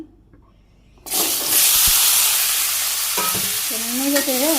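Pumpkin pieces hit hot oil with turmeric, chilli, green chilli and salt, setting off a sudden loud sizzle that keeps hissing steadily, with stirring scrapes and a brief voice near the end.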